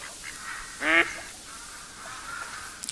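A single short duck quack from a hunting video game, heard once over a quiet, faint ambient background.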